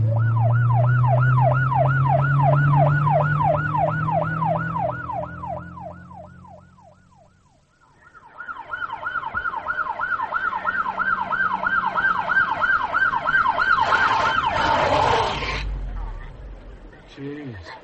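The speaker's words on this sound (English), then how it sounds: "Sirens and lights." Police sirens: a wailing siren sweeps up and down repeatedly, loud and close, fading briefly before a second siren wail rises again with engine noise beneath.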